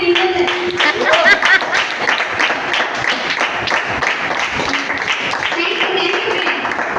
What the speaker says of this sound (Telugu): గట్టిగా కొట్టి